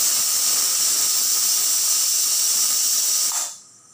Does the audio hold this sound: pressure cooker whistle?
yes